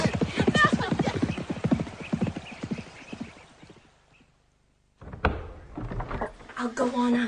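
Horses' hooves clip-clop in a quick, steady rhythm under a dramatized reading of Oscar Wilde's The Canterville Ghost, drop to near silence, then resume as a sharp thump and more hoofbeats while voices speak over them.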